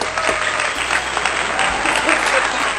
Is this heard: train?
no